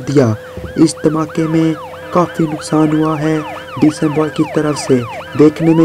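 Ambulance sirens wail in repeated rising-and-falling sweeps at the scene of a blast, several overlapping, loud and continuous beneath a man's steady news-style narration.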